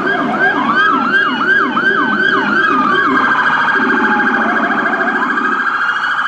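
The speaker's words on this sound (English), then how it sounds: "If you guys don't know what Rumbler sirens are," A loud, close police Rumbler siren yelping in fast repeated sweeps, then switching to a steadier, rapidly pulsing wail.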